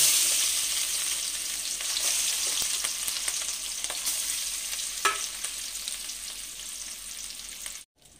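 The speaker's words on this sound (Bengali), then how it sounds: "মাছগুলো ভাজা হয়ে গেছে, এরকম করে এপিট ওপিট 2 পিটি লাল করে ভেজে তুলে নিয়েছি।" Rohu fish pieces fry in white oil in a kadai, turned side to side until reddened, giving a loud, continuous close-up sizzle and crackle that runs unbroken until a sudden cutoff near the end.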